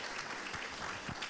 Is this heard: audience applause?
yes